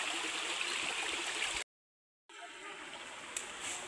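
River water flows and gurgles steadily at a crab-catching spot, a soft continuous wash that drops out abruptly for a moment, then returns quieter and smoother.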